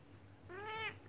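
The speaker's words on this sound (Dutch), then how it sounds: "ze zegt dan miauw, miauw" A single cat meows once, a short, clear rising-and-falling call close by over a faint low background hum.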